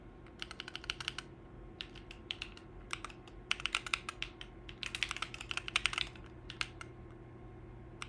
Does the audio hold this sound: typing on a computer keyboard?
yes